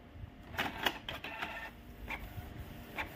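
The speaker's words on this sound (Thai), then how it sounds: "กดปุ่มไทยกระสานสีดำนะครับ เขาจะปิ้นเทสออกมานะครับ" A Canon inkjet printer with ink that had stopped flowing prints a test page, giving quiet mechanical whirring broken by a series of short clicks and clunks as the print head moves.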